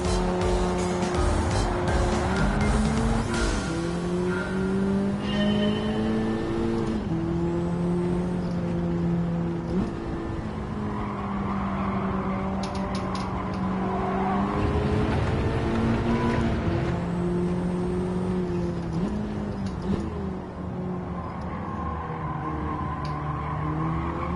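A red Honda Type R racing in Gran Turismo 7, its engine droning continuously and rising and falling through gear changes, with tire squeal layered over the steady, loud in-game car noise throughout.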